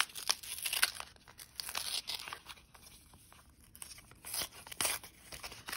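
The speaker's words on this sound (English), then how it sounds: "Letter opening ASMR" Paper envelope being torn open by hand, close and crisp, with repeated ripping and crinkling bursts in an uneven rhythm and brief quieter pauses between.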